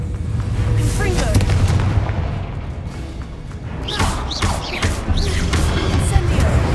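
Confringo fire-blast spell explosions in Hogwarts Legacy, a string of loud booming blasts and crackling impacts amid combat noise, with several whooshing casts in quick succession.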